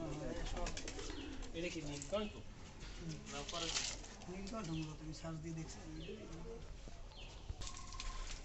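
Pigeons coo at a pigeon farm, their soft repeated calls layered over a steady background with someone speaking throughout.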